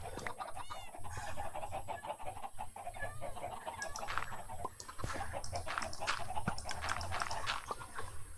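Chickens cluck and chatter in a crafting video game, a dense run of short, repeated clucks at moderate loudness over a steady background hum, with no talking.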